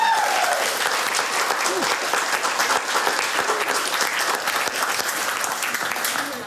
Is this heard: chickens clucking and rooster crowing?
no